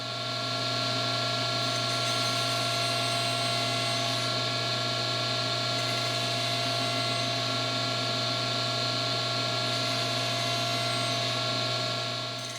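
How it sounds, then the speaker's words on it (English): Mini table saw with a sled nibbling away wood for haunch cuts on a console table part, a loud steady whine with strong tonal hum that runs continuously and close with no talking. "I've raised the blade up to cut 1 inch, and I'm just going to nibble that material away."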